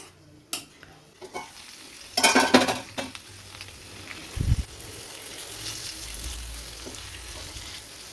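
Chicken pieces for a creamy cheesy Dubai-style dish sizzle in a pan while a utensil flips them, bringing a burst of metallic clatter and scraping around the middle and a dull knock, over a steady fry with no talk.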